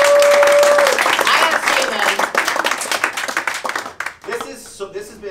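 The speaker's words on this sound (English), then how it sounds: "Give yourselves a round of applause" Comedy club crowd in Linz, Austria, breaking into loud, dense clapping after a stand-up set, a steady wash of hands that thins and scatters toward the end, with voices calling out over it.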